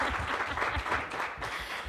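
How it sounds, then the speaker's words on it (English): Audience applause for panelists at an arts-equity conversation series in a theatre, a steady wash of many hands clapping that carries through the whole moment, fairly full and close. "Can you give these ladies a round of applause?"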